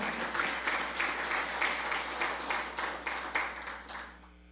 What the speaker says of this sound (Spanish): Aplauda al Señor esta mañana.